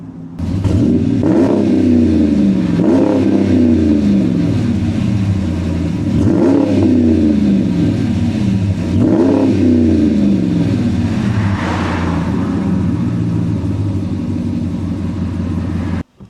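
V8 engine of a Dodge Ram pickup revving repeatedly, loud and close, with several rising and falling throttle blips over a deep rumbling idle, no talking.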